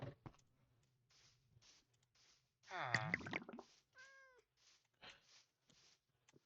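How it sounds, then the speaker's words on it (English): A cat meows in Minecraft, one clear mewing call rising out of faint clicks and scattered quiet sounds, with a shorter tonal call following soon after. "And that is a cute cat down there."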